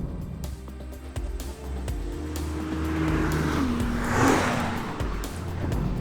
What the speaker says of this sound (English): that would be the transmission's audible whirls and clunks that are just part of the GT-R's personality